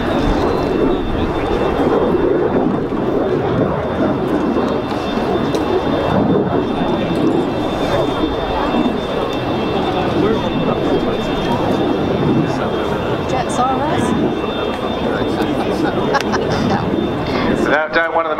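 Hawker Hunter jet, Miss Demeanour, climbing at an air day at RNAS Yeovilton ahead of a high-speed display pass, a loud continuous roar sustained throughout.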